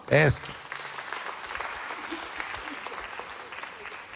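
A church congregation applauds during a Sunday sermon, steady mid-level clapping from the crowd that follows a brief loud shout and continues evenly to the end.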